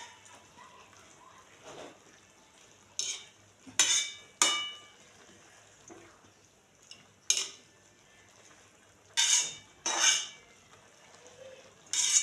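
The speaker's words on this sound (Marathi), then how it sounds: "चांगली हलवून घ्यायची भाजी" A spoon stirs chopped spring onion greens in a metal pan, giving a series of sharp scraping clanks at irregular intervals over a faint background, close and distinct with no voice heard.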